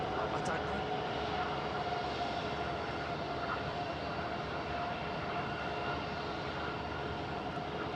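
A Gulfstream business jet takes off at Houston's George Bush Intercontinental Airport, a steady, fairly distant broadband engine roar that stays constant without pauses.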